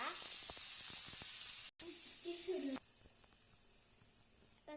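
Fish frying in a pan at home, a loud close hiss of sizzling oil that briefly cuts out, returns, then drops to a quieter simmer, no talk.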